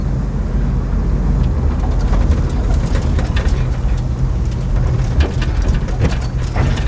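Classic car with poorly adjusted front torsion bars driving along, a steady low engine and road rumble filling the whole stretch with no talk over it.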